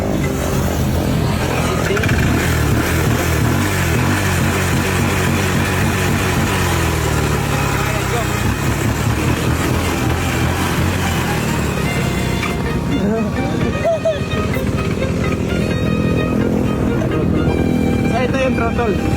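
A motorcycle engine revved hard with the throttle, loud and close, rising and falling in sustained bursts of roaring exhaust, while people talk over it.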